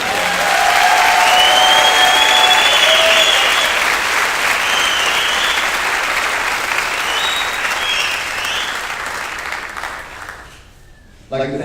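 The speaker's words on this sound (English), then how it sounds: "So please now turn around and give DJ a big round of applause." Loud, sustained applause from an auditorium audience at a spring concert awards segment, with some cheering mixed in; it slowly fades and stops near the end.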